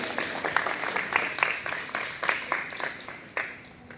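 Steady audience clapping follows a poem at an inter-school Hindi poem recitation competition for Hindi Diwas at Tagore Public School, a moderate crackle of many hands that tapers off near the end.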